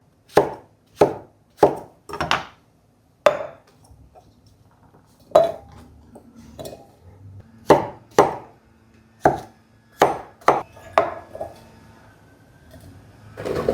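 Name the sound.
knife chopping zucchini into cubes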